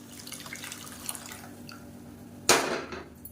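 Lentil cooking water is poured into gooseberry rasam in a kitchen. Light drips and small clinks come first, then a sudden splashing pour that fades away, close by and without talk.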